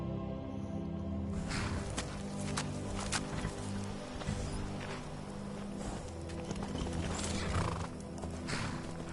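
Horse in Skyrim walking with steady clip-clop hoofbeats and a clear neigh, close and loud over faint rustling, with no talking.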